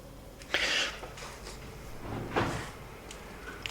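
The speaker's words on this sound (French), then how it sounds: "Là, je crois qu'on était en train d'ouvrir une porte." A door being opened indoors gives a couple of soft creaks and muffled knocks spaced a few seconds apart over a low room hiss, ending in a sharper clunk.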